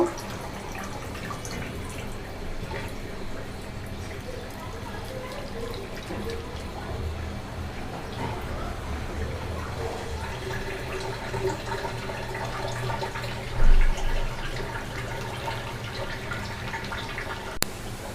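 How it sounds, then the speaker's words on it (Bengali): Coconut milk squeezed by hand from freshly grated coconut, with liquid steadily dripping and trickling into a bowl. The sound is soft and continuous at close range, with a brief louder splash near the end. "এভাবে আমি নারকেল থেকে দুধ বের করব।"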